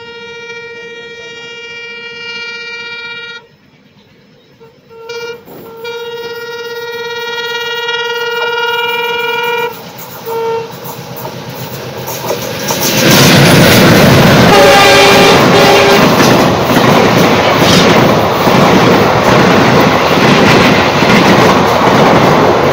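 The Aurangabad Hyderabad Express on Indian Railways gives a long sustained horn at a crossing, then rushes past close by with loud roaring wheel and wagon noise and clattering over the track, heard from an onboard train.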